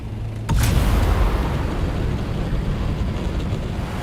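Explosion in Dune Awakening, a sudden loud boom hitting about half a second in, then a sustained heavy rumbling roar that lingers without fading.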